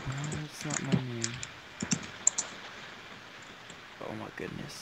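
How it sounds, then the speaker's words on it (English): Computer keyboard typing during a game session, scattered soft clicks of keys tapped in short bursts, heard faintly between and beneath a voice talking up close. "Ah, I keep typing Spencer"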